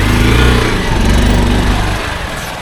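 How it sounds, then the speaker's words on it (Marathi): A 150 cc motorcycle engine labours up a rough, broken hill track toward Rajmachi Fort in first gear. It gives a loud, close, steady drone with a deep throb that eases slightly near the end, and no voices are heard. "आमचे काय नॉर्मल बाईक आहेत 150 cc वाल्या."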